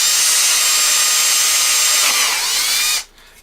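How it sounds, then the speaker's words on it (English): A power drill bores through a PVC pipe for an LED candle project, a loud steady high whine for about three seconds that cuts off abruptly, leaving quiet. "drill through the hole just like that"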